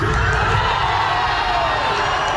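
Soccer fans at an outdoor World Cup watch party on a plaza at Toyota Music Factory cheer for USA goals against Paraguay, a dense, loud crowd roar with shouts and whoops, steady throughout.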